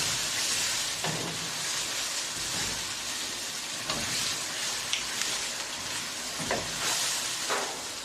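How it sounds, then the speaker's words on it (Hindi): Steady frying sizzle of boiled peas in a pan fills the clip, with occasional scraping stirs, close and continuous with no talking. "अब उसमें मटर भी शामिल कर दें और उसको भी भूनना शुरू कर दें।"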